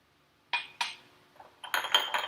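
A spoon clinks against a glass while sugar is stirred into a caipirinha, with a few sharp separate chinks followed by a quicker cluster of bright rattling taps, close and fairly quiet.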